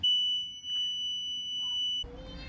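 A steady high warning buzzer sounds for about two seconds as the ignition is switched on in a Bayliner 185 boat with a Mercruiser 3.0 135 HP engine, then cuts off into a burst of broader mechanical noise.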